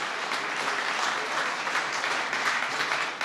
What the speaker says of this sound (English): can I just invite you to give a big round of applause to the Second Lady of the United States of America